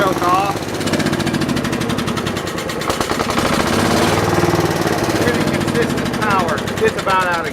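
A Universal generator engine just after a cold start, choke on, runs loud with a rapid rattling, chugging beat that stays steady throughout, with a voice talking over it.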